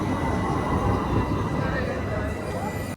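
A train in Istanbul at night rolls past close by in a loud, continuous rumble of wheels and carriages that cuts off abruptly at the end.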